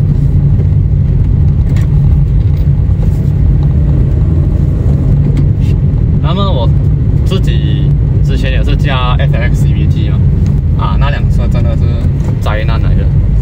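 Proton Saga 1.3L manual car driving and accelerating, a steady loud engine and road drone running throughout beneath continuous talking.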